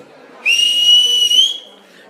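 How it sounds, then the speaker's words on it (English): A full-time whistle is blown at an awards dinner: one clear, shrill blast held for about a second, loud and close against a quiet room. "That was your full-time whistle."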